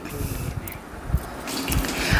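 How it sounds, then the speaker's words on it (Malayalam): Boiled and cooled water poured into a large vessel while making traditional mango pickle, a close, steady splashing pour with a few louder gushes. "വലിയ ഒരു പാത്രത്തിലേക്ക് തിളപ്പിച്ചാറിയ വെള്ളം ഒഴിച്ചു"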